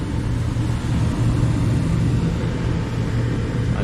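An inducer draft motor on an 1890 Sagamore furnace runs with a steady low hum and whir, holding an even drone at moderate loudness with no talk over it.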